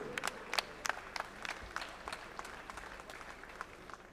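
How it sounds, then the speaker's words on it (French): An audience claps for an honoured guest, Xavier Vaccaris, with a steady wash of applause and sharper individual claps standing out through the four seconds. "applaudissez-le fort parce que c'est un grand monsieur"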